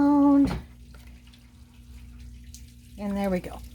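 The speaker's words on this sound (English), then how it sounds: "Dump that in, squish it around" Fabric is dumped into a bath of dye rinse water and squished around by hand, giving soft sloshing and squelching, with a brief voice at the start and end.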